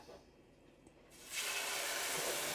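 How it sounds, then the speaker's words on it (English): After a quiet second, a loud, steady sizzle abruptly starts, a bright frying hiss as marinated chicken hits a hot pan. "see, hear that nice sizzle"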